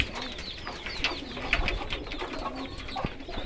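Budapest pigeons coo in a steady run of soft, throaty calls, close by with rustling in the background and no talk.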